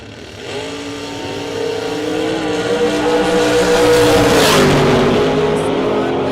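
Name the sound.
drag racing cars launching in a box shootout round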